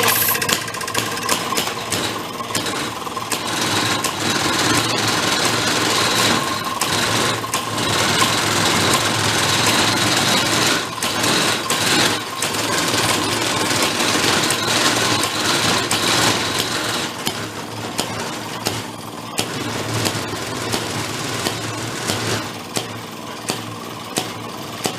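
A Maytag 92 hit-and-miss engine bought at a flea market runs steadily and loudly, with a rapid, uneven mechanical chatter and knock from its unbalanced crankshaft, and no talk over it.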